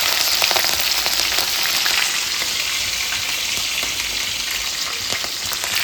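Green chillies sizzle and crackle loudly in hot oil in a pan, a dense continuous frying hiss with scattered pops throughout, heard alone without talk.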